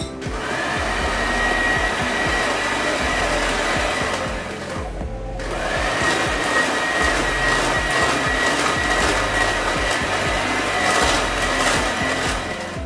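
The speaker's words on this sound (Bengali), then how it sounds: "এবারে আমি সবকিছুকে বিট করে নিচ্ছি" An electric beater whirs loudly and continuously while mixing batter with salt, dipping briefly in pitch about midway before spinning back up to a steady high whine.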